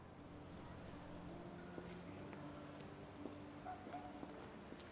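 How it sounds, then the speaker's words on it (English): Steady rain falls in a Sherlock Holmes The Awakened game scene, a constant hiss with scattered drip accents, with faint low tones running beneath it. "People don't tend to come out for flowers when it rains."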